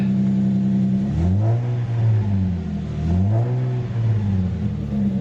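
A Lexus IS200 engine is blipped twice, each rev rising and then falling back to a steady idle. The sound is loud and close, with no talk.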